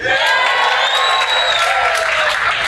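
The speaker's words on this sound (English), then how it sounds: "Sorry, I just get more applause when I say it that way." An audience at a live stand-up comedy show applauds and whoops, a loud, dense wash of clapping and crowd cheering filling the room without pause.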